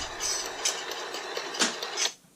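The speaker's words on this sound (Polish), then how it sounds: "zrzućmy ten cleaning na strong i head cleaning niech sobie pójdzie" An Epson EcoTank L365 inkjet printer runs a strong head cleaning: mechanical whirring and ratcheting with repeated clicks and brief louder bursts, then it cuts off abruptly near the end.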